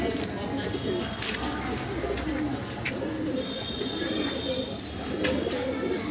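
Soft cooing of high flyer pigeons mixes with a low murmur of background noise and faint voices, a few brief chirps and clicks standing out.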